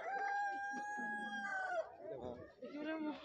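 A rooster crows loudly and close by at a livestock fair in Guwahati, Assam. One long, drawn-out call is followed by shorter clucks, with faint voices in the background.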